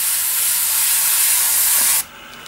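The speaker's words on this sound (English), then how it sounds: "Sprays very easily, no problems at all. The airbrush is coping perfectly fine with that." An airbrush with a 0.3 needle sprays AK-Interactive track primer in a steady, loud close hiss for about two seconds before cutting off to quiet.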